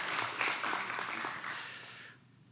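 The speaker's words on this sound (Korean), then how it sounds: "박수로 환영하겠습니다" A church congregation claps during a Sunday worship service to welcome a visitor, a short, moderately distant burst of mixed applause that fades out after about two seconds.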